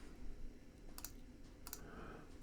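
Two quick mouse clicks, well spaced and faint, as settings are shift-clicked in audio plugin software over a quiet room hum.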